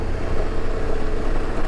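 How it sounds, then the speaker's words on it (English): Aftermarket exhaust on an Aprilia Tuareg motorcycle ridden on a backcountry trail, giving a steady low engine drone with constant rumble throughout, moderately loud and close, with no talking. "I'm not sure how well you can hear my exhaust"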